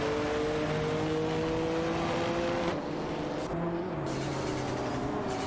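Race car engines in a racing video game, including an Audi 90 Quattro IMSA GTO, several droning engine tones holding steady then shifting pitch as cars jostle, continuous and fairly loud, with no talk.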